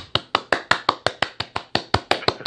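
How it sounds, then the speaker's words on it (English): Steady, evenly spaced hand claps, about five per second and sharp, close and loud, sound during a round of applause on a CRPA talk show. The pattern is a single rhythmic clapping line rather than a dense crowd, and no one speaks. "I just want to give a round of applause."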